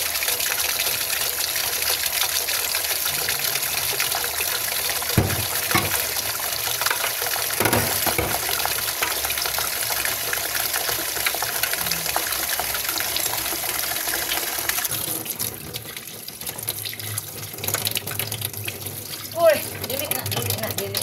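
Water gushing into a collection container, a continuous splashing rush that carries on throughout with a few louder splashes, close and fairly loud, with people talking over it at times.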